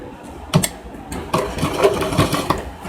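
A sewing machine stitches a zip onto a princess-cut blouse, with short bursts of close, steady motor whirring and clatter separated by brief pauses.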